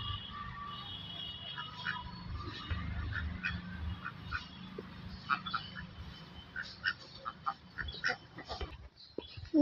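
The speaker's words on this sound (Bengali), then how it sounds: "দেখেন নিরিবিলি জায়গায় কিন্তু হাঁসগুলো বসে আছে" Ducks quack and chatter repeatedly at a moderate distance, a few calls rising clearer toward the end over a quiet outdoor background.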